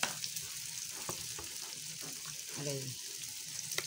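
Chicken frying in a pan for chicken adobo, a soft, steady sizzle with occasional stirring scrapes and clinks, fairly faint, beneath brief talking.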